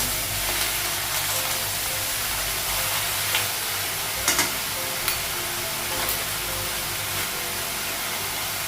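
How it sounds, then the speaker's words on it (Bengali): Vegetables and ridge gourd fry in a pan with a constant broad sizzle and hiss, plus a few light utensil clinks. "ঝিঙেটাও লাগাবো একটু সবজিগুলো ভেজে দেবো"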